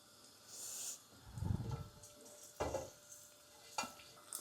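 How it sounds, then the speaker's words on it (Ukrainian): Pumpkin pieces frying in hot oil, soft sizzling under a few distinct stirring scrapes and clinks of a utensil in the pan, spaced irregularly and close by. "Олійка розігрілася і додаємо наш гарбузик. І підсмажуємо 2-3 хвилинки."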